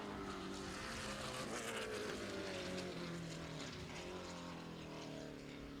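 Muscle race cars lap Levels Raceway during a Central Muscle Cars race, making a continuous loud engine roar that rises and falls slightly as the cars pass.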